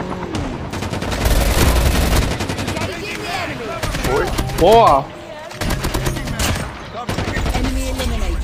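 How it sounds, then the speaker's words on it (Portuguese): Rapid bursts of video game sniper rifle gunfire crackle and boom over continuous background noise, with a voice exclaiming briefly. "Dei dois, três tiros nesse maluco de sniper"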